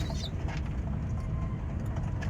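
Low, soft pigeon cooing in a steady murmur, close by, with a faint outdoor background.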